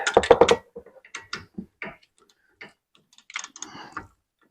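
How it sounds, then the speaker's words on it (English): A hand ratchet backing out a bolt on a Chrysler 300, producing a quick burst of loud close clicks followed by sparse, softer individual ticks and a final flurry of clicking, with no talk over it. "And grab your ratchet."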